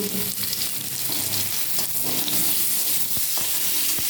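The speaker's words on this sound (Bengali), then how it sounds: "আমি এখানে তেলের উপরে লঙ্কা পাঁচফোড়ন কালো সর্ষে ফোড়ন দিয়ে আমগুলো ভাজছি" Mango pieces frying in oil with chili, five-spice and black mustard seeds, a loud continuous sizzle with faint crackles and a couple of soft knocks near the end.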